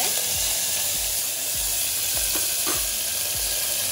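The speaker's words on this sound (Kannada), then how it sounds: "ಸೊ ಒಗ್ಗರಣೆ ಹಾಕ್ಕೊಂಡ್ವಿ." Spices for tempering sizzle and crackle loudly in hot oil in a pan for a brinjal curry, a dense continuous frying hiss broken by small pops and a few stirring scrapes.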